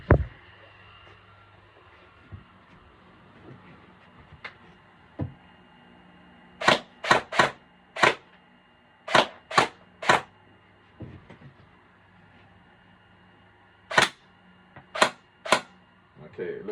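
An airsoft gun with a T238 tracer unit firing tracer BBs as sharp, separate snapping shots, some single and some in quick clusters of two or three, with quiet gaps between them and little else audible.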